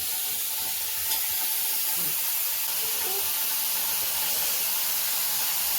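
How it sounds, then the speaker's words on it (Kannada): Wheat-flour dough for janasakkare sweet fries in hot oil over a low flame, giving a continuous, even hiss and sizzle without pause and no voices. "ಇದನ್ನ ಕರೀರಿ ಬರಿ ಗರಿಯಾಗವು ಸಣ್ಣ ಉರಿ ಕರಿಯವು"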